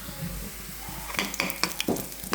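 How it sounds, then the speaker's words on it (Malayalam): Mustard seeds, shallots and curry leaves fry in coconut oil with a steady sizzle, while sharp popping and crackling bursts come close together near the end. "വെളിച്ചെണ്ണ ഒഴിച്ച് കടുക് പൊട്ടി ചുമന്നുള്ളി കരിയാപ്പില ഇട്ട് വഴറ്റി"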